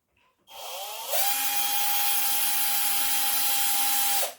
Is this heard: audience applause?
no